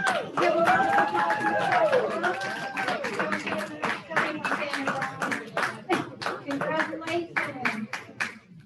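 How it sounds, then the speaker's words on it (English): An audience at a graduation ceremony claps steadily in a dense, sustained round of applause. A voice speaks over the start before the clapping thins into separate claps near the end. "give a round of applause for Ms."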